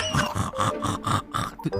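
A pig grunting and oinking in a rhythmic series of about seven short, loud calls, clear and close with no talk over them.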